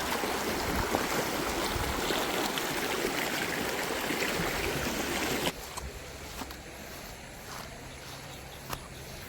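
Muddy floodwater rushes past after three days of continuous rain, a steady broad roar that drops to a quieter flowing wash partway through.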